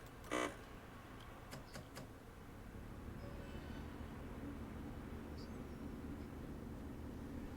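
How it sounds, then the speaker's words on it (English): Steady low diesel engine drone of a Class 142 Pacer train in a train simulator game, rumbling evenly throughout after a few brief clicks near the start, with no talking. "the engine on this train sounds really awesome"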